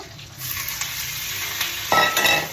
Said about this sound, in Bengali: এবার আলুগুলো কড়াইয়ে ঢেলে বন্ধুরা ডিমগুলো দিয়ে দিচ্ছি।